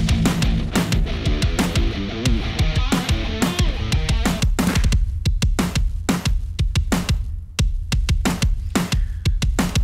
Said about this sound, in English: So this is a combo kit using a little of both.